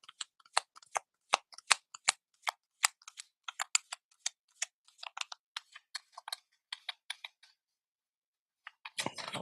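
Tarot cards riffled and drawn one by one during a reading, a quick run of crisp, close card snaps and slaps, then a pause before a brief rustle at the end.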